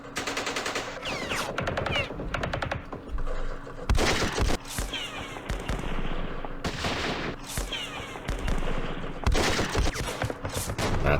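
Units firing in the Vietnam War strategy game Campaign Series Vietnam at the Battle of Hue: loud repeated fusillades of rifle and machine-gun fire in dense rattling volleys, with short gaps between bursts.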